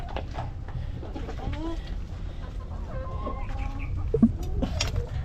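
Pet backyard chickens cluck and murmur close by in a steady, busy chorus of short calls, with a few louder squawks near the end and a person occasionally speaking.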